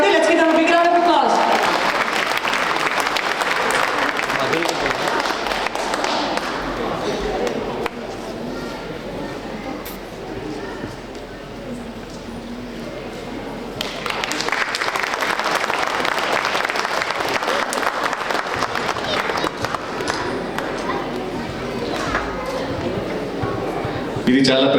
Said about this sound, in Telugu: let's give them a big round of applause